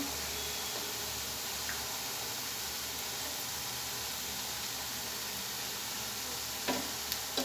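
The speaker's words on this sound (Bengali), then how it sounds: "চেকন চেকন করে ভাজি করে নিব জেলাপিগুলো আমি আজকে" Jalebi spirals frying in hot oil, a steady soft sizzle and bubbling hiss that continues evenly throughout, with a few faint clinks near the end and no one talking.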